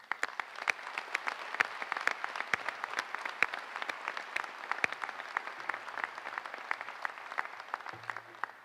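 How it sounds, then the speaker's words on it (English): Audience at an annual agricultural meeting applauding Mississippi catfish farmers and processors, with a sustained patter of many hands and a few sharper individual claps standing out, steady and moderately loud. "let's give a round of applause for our Mississippi catfish farmers and processors"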